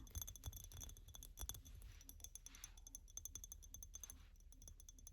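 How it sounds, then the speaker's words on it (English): Close, crisp tapping on a glass object, a quick irregular run of bright clinks and taps lasting several seconds with no talking. "I haven't tapped on a glass thing"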